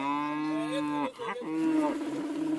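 Cattle in a drought-hit Ethiopian village moo in long, deep, tonal calls that are close and clear, with a short break in the middle and no talk over them.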